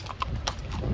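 A horse walking on a desert ride clip-clops in a quick series of distinct hoof strikes, fairly close, with no talking.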